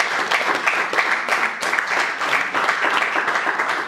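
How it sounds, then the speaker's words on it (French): Congregation applause for a church choir at a worship service, a dense steady clapping that fills the whole few seconds without a break, fairly loud and close, with no clear voices above it. "Applaudissons très fort"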